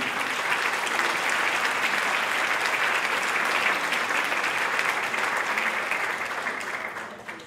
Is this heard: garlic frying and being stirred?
no